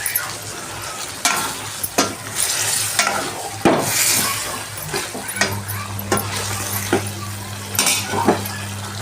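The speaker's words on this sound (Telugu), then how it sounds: "కొద్దిగా అల్లం వెల్లుల్లి పేస్ట్ దీంట్లో వేసుకున్నాము. వేసి కలుపుకున్నామండి." Fried chicken with ginger garlic paste stirred in a pan for ghee chicken roast, loud sizzling with repeated spoon scrapes and clinks against the pan at irregular intervals, close and without talk.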